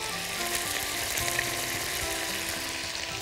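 Onion and garlic frying in butter and oil, a dense, even sizzle with occasional stirring scrapes, close and steady for a few seconds without speech.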